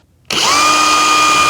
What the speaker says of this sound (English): I'm just going to drill it in a pilot hole